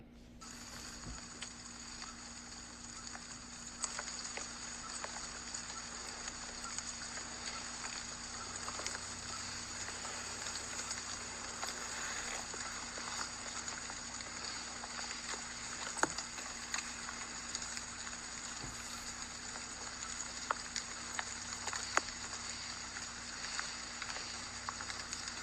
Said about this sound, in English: you can hear the rain on the foliage